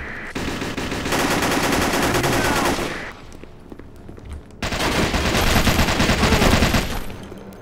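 Rapid automatic gunfire from a powerful gun in the shooter game Operation 7 comes in two long, loud, continuous bursts separated by a short pause, with a faint voice briefly underneath.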